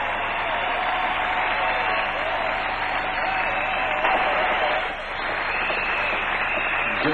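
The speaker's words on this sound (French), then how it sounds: "J'aimerais que vous puissiez soutenir ce message par des acclamations au nom de Dieu." A church congregation applauds and cheers in a dense, sustained wash of clapping and crowd noise that fills the room throughout, dipping briefly before swelling again.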